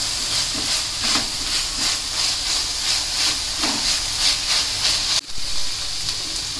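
Green gram (mung beans) frying in hot oil in a pan, cooked with drumstick leaves: a steady, loud hiss and sizzle that stays dense throughout, with one brief dip near the end.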